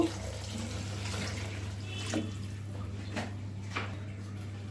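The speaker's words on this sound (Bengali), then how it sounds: "এখন পানি দিয়ে দিব" Water splashes and runs into a pot of broken-rice khichuri in a few short bursts over a steady low hum, fairly quiet and close.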